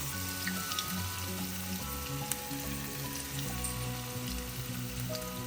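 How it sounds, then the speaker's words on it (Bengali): Small lentil fritters (dal bora) frying in oil in a home kitchen give a steady, close crackling sizzle that runs unbroken throughout, with a low tonal hum underneath. "এইভাবে ছোট ছোট করে ভেজে নিব"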